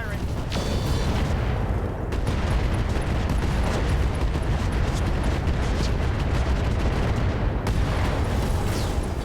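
Mech weapons fire and explosions in the RogueTech battle game, with an Awesome mech and a Centurion in play: a loud, continuous wall of blasts and booms, with a couple of sharper bursts standing out.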